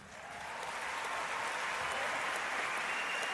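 Audience applause fills an award ceremony hall for environmental prizes, a dense steady wash of many hands clapping that swells in the first half second and holds loud throughout.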